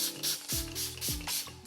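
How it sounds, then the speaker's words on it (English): Several short, close hissing bursts of makeup setting spray, each with a faint clicking pump sound, repeated in quick succession. "we're gonna spray the setting spray one more time"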